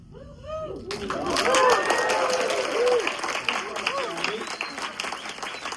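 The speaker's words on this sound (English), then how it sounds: "we're going to clap really harder. We're also going to use our vocal cords and say, woohoo!" An audience at a presentation bursts into loud clapping mixed with whooping cheers and raised voices, swelling quickly after a quiet start and then continuing as a sustained crowd roar.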